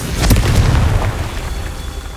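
A Confringo blast spell in Hogwarts Legacy, set in the catacombs, goes off as a deep booming explosion with a sharp burst up front, then rumbles and fades away. No voices are heard.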